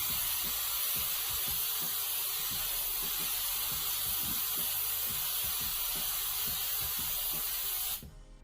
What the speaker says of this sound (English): we can then put the second coat of the black spray paint